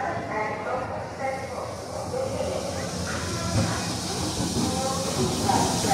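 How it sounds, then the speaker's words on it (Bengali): A delayed passenger train rolls into a station on the route toward Joychandi Pahar in Purulia, a steady rumbling wash with hissing and faint clattering wheels under busy platform crowd noise throughout. "নির্ধারিত সময়ের থেকে 20 মিনিট লেটে আমাদের ট্রেন এখন ঢুকছে।"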